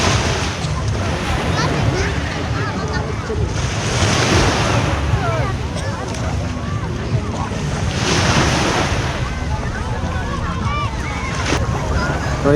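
Sea waves surge and wash continuously close by, with broad swells building and receding every few seconds under steady wind buffeting the microphone, a boat's presence faintly mixed in.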